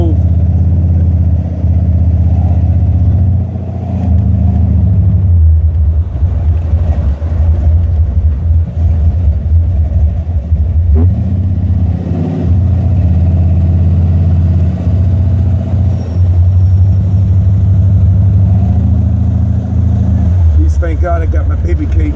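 A 1987 Buick Regal-T with a 455 engine, suspected of a failing torque converter, runs loud and close with a steady low drone and rises in revs, heard under someone talking throughout.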